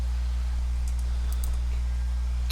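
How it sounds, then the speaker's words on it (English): Computer keyboard typing, a few faint scattered key clicks over a steady low electrical hum, with no voices. "Yeah, I'm typing it to you."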